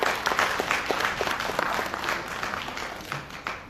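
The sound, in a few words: applause welcoming the doctor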